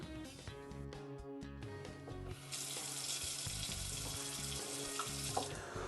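Water from a kitchen sink faucet starts running and then flows steadily and loudly into the basin, with no talking.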